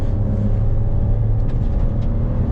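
A 2023 Fiat Fastback Impetus 1.0 turbo with CVT accelerates hard on the road, a steady low engine drone and rumble heard from inside the car, loud and constant throughout.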